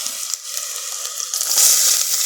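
Onions tipped into a hot pan of garlic in a village kitchen give a steady, close sizzle that swells louder toward the end, with no talk.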